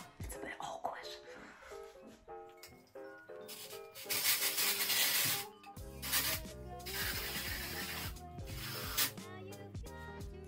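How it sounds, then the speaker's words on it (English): Dry shampoo sprayed onto hair while styling a vintage-inspired hairstyle: several sustained aerosol hisses of a few seconds each, close and fairly loud, with background music and some talking running throughout. "spray quite a generous amount of the hairspray, sorry, the dry shampoo"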